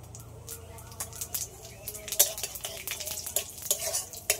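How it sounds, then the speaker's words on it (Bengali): Cumin seeds are tempered in hot oil, crackling and sizzling softly while a spoon stirs against the pan, producing irregular close clicks and scrapes over a low frying hiss. "ফোড়নে জিরে দেবো"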